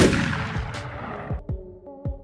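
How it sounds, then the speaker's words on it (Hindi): Cannon salute fire sounds as a loud opening boom, followed by several sharp, distant-sounding blasts spaced roughly half a second apart, each with a short rumbling tail. "और 100 तोपों की सलामी वो अलग"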